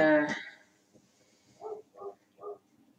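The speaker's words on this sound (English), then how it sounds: "the dogs are barking." A few dogs bark at a distance in a home: a louder burst opens, then three short, evenly spaced barks follow, fairly faint.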